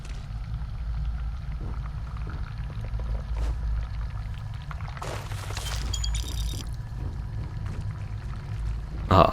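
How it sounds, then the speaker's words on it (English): A large shower system in the video game Starfield runs with a steady, rushing spray and hiss under a low rumble, with a few brief clanks and a louder burst at the end. "That's a pretty cool shower system there."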